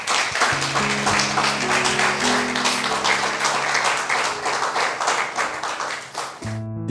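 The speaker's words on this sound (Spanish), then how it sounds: "Así que démosle un aplauso al Señor." A church congregation breaks into sustained applause and clapping for several seconds, loud and dense, with organ or keyboard chords sounding underneath and rising alone at the end.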